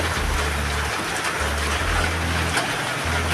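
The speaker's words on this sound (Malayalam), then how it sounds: "ഏതായാലും വല്ലാത്ത മഴ കേട്ടോ" Dense, continuous heavy rain with strong wind roars with a broad hiss, steady and loud throughout, with a low rumbling undertone.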